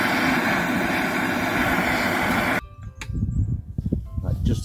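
A torch roars steadily while heating the final drive of a Hitachi EX30 mini excavator to free it, then cuts off abruptly, followed by scattered metallic clanks and handling noise nearby.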